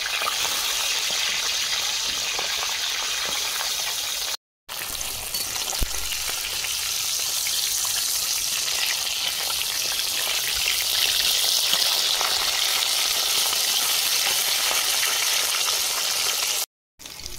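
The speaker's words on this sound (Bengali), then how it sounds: "তেল গরম হয়ে গেছে, মাছ দিয়ে দেবো।" A fish head frying in hot mustard oil in a wok, a loud, continuous crackling sizzle heard close up and sustained throughout, broken only by two very brief gaps.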